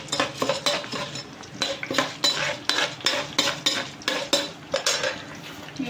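A utensil scrapes and clatters in a pan while ingredients for drumstick leaf chutney are fried, a steady rhythm of repeated stirring strokes with faint sizzle underneath, close and fairly loud.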